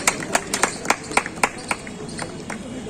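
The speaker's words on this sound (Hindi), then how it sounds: "जोरदार तालियां स्वागत कीजिए विमल जौहरी साहब।" Scattered claps from a crowd at an Independence Day ceremony at the collectorate in Bareilly, a dozen or so uneven hand claps against a murmuring room background.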